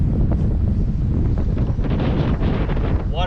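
Steady wind buffets the microphone on a lake bank at Claytor Lake, Virginia, a loud continuous rushing roar that fills the whole clip with no pauses.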